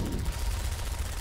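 Rapid turret machine gun fire in a Garry's Mod co-op map, a short dense burst of fast repeated shots, fairly loud and steady throughout.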